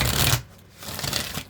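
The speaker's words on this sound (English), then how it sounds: "We'll get a couple good shuffles here." A moon oracle card deck being shuffled by hand, two brisk bursts of riffling card noise close by, separated by a short pause, with no talking.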